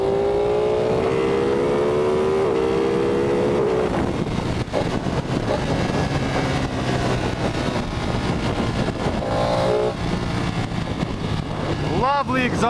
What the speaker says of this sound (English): Lovely exhaust note.